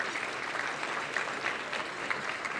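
A seated audience at a housing awards luncheon applauds in a steady, even roar of many hands clapping, moderately distant, continuous throughout with no single voice standing out.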